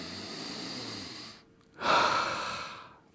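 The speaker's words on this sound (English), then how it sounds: "The word breathe names the action of taking air into the body." A person draws a long, audible breath, a breathy airy rush that fades, a brief quiet, then a second louder inhale or exhale close to the microphone.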